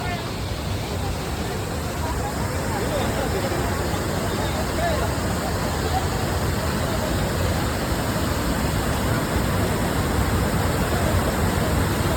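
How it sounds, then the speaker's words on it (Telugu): Hogenakkal waterfall in full flow pours with a dense, steady roar that fills the whole stretch without a break, and faint crowd noise is mixed in. "ఇదండి వాటర్ ఫాల్స్."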